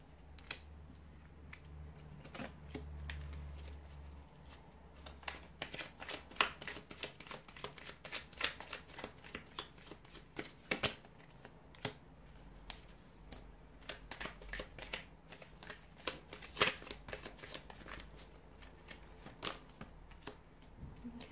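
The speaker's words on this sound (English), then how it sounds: "There's a few cards that are just sort of flying out." Tarot cards being shuffled produce quiet, rapid papery flicks and riffling clicks in close, uneven bursts, faint overall, with no speech.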